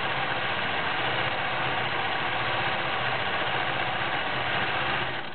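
Janome 900 sewing machine motor running steadily on its high speed setting, a continuous even whir with a low mechanical hum, close and alone with no talk.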